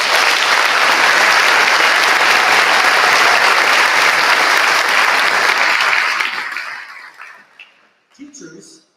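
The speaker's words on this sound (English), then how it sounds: "So I want to give them a round of applause also." A crowd at a school class promotion ceremony gives loud, sustained applause that fills the room for about six seconds, then thins out into a few scattered claps and fades away.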